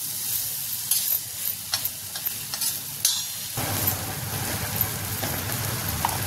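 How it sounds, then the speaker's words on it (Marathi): Bombay duck and potato curry with garam masala is stirred in a frying pan; repeated scraping strokes give way to a steady, close sizzle of frying, with no talking. "छान हलवून घ्यायचा एकदम व्यवस्थित।"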